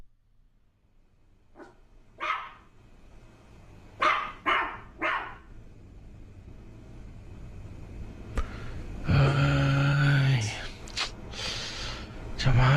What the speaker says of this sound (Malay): Sepanjang malam tak henti-henti anjing tu menyalak.